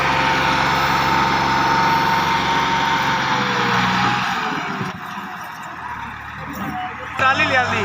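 Two tractors run loudly with a steady drone while pulling a loaded 16-foot trailer up an incline, easing off toward the end as people talk over it.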